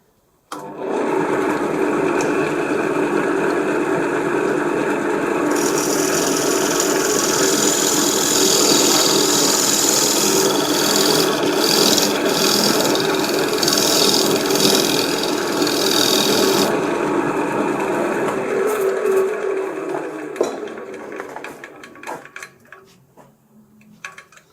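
Skew chisel cutting a construction pine bowl on a wood lathe, a loud continuous scraping hiss over the motor's hum for about twenty seconds, then the lathe winding down to quiet.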